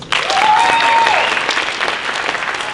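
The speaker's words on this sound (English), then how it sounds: "Round of applause." A crowd applauds at a hackathon event, loud sustained clapping from many people that starts abruptly and holds steady, with a brief tonal whistle-like sound rising over it early on.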